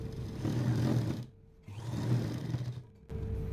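A sewing machine stitches lace onto a kurti with an elbow puff sleeve, in two steady whirring runs that pause briefly between them, close and loud with no talk.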